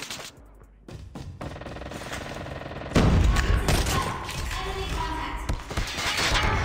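Rapid sustained minigun fire in a first-person shooter game, a dense continuous burst of automatic shots that grows louder partway through and keeps roaring to the end, with faint game effects underneath.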